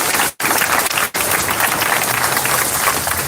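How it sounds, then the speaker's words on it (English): A crowd applauds loudly and continuously at a solidarity march event in Denver, dense clapping broken by two brief dropouts, with no speech. "Give them another round of applause."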